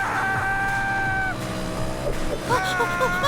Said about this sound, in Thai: เมื่อเขาได้ยินเสียงเรือผ่านเข้ามาใกล้ ๆ